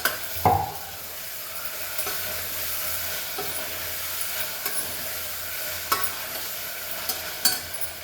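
Onions and tomatoes fry and sizzle in a pan during breakfast cooking, a constant hiss broken by a few sharp clinks and scrapes of a stirring utensil.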